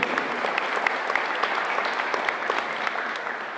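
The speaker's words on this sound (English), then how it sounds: "big round of applause for our partners coming in." A crowd applauds partners at a county and state recovery update meeting in Puna, producing steady, dense clapping that holds at an even level throughout, with no talking over it.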